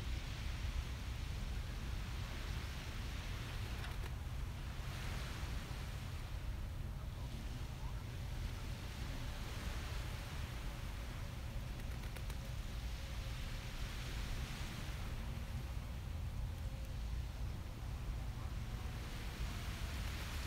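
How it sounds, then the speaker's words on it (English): Continuous broadband wash of ocean water on a beach, steady and fairly soft, with wind rumble on the microphone and slow swells rising and falling throughout. "Jan, I'm so glad you're enjoying the sounds of the water."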